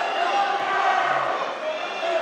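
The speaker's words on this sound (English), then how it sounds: "You can hear the crowd really amping up" A basketball arena crowd roars steadily and builds in the closing seconds of a game, a loud, sustained wash of voices with talk mixed in.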